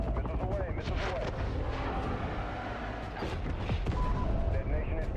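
In a video game, missile strikes explode as a dense, continuous barrage of booming blasts and crackling gunfire, with voices talking over the din.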